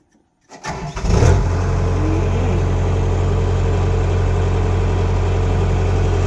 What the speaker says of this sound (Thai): ทั้งเสียงเครื่องครับพี่น้องครับ เสียงเครื่องเนี่ย ปกติเลยครับพี่น้อง